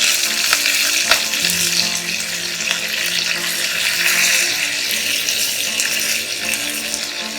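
Curry leaves hit hot oil in a pan just after mustard seeds have popped, while tomato rice is being made from leftover rice. A loud, steady frying sizzle crackles throughout with no talking.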